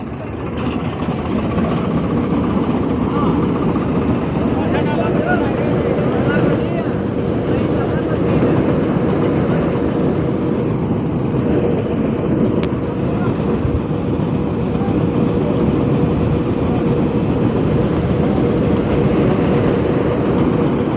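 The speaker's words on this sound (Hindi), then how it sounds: "वो हमारा ट्रैक्टर चल रहा।" A Swaraj tractor engine runs steadily and loudly throughout, a continuous low rumble with no pauses, close by.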